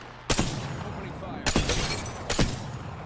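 Three sharp sniper rifle shots in Apex Legends, each a loud cracking blast spaced about a second apart, with brief echoing tails and no voices.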